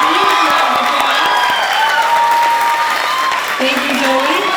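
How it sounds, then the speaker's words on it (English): A graduation ceremony audience applauds salutatorian Zoe with steady, dense clapping, a few whoops and cheers, and voices mixed into the crowd noise throughout. "Everyone give Zoe a huge round of applause."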